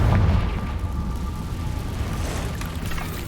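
A heavy magical blast from the Confringo spell in Hogwarts Legacy, set in a cave: a loud, deep boom that swells at the start and rolls into a sustained low rumble, with no voices over it.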